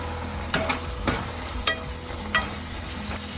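Tomato and freshly ground Chettinad masala powder sautéing in oil for a paneer curry, a soft steady sizzle broken by four or five sharp spoon scrapes and knocks against the pan.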